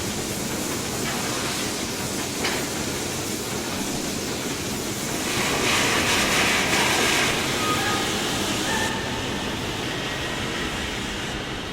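Water rushing into a locomotive's tank in Train Simulator 2016: a steady broadband hiss of pouring water that swells louder midway and then settles, with no talk over it.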